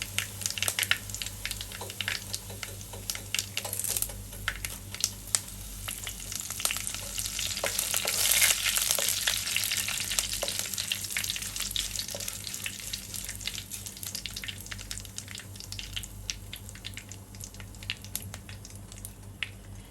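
Curry leaves dropped into hot oil with dried red chillies crackle and sizzle loudly and continuously, and the spitting swells briefly midway before settling into a steady fry.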